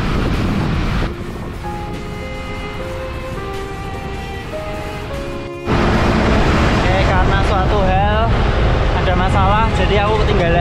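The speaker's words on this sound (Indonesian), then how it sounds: "anginnya kencang, trafiknya rame, jadi banyak suara motor mobil itu." Strong wind buffeting the microphone on a busy road during a Jakarta to Bandung bicycle ride via Puncak, Bogor. Loud continuous roaring rumble with traffic beneath it, and it surges louder partway through. Speech is also picked up.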